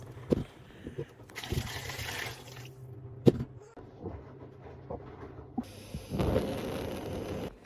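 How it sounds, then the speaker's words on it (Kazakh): Water runs intermittently into a large cooking pot being filled for boiling meat, with splashes, clunks and knocks of the vessel between pours, and a louder gush near the end. "Барлығын жақсылап жуып тазалап, үлкенде отынға салып, суды толтырып қойып"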